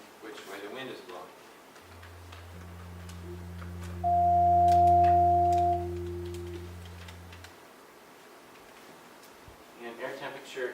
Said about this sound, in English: So you'll hear this drone out of the left or right speaker, depending on which way the wind is blowing.